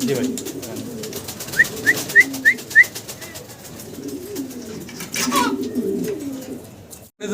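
A checker-colored Dragon homer pigeon pair coos softly at close range, with a quick run of five chirpy notes near the start and low murmuring coos under background noise.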